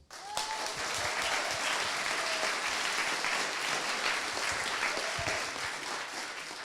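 An audience at a startup pitch event applauding to vote, dense and sustained clapping from a large crowd that stays steady throughout with scattered faint voices.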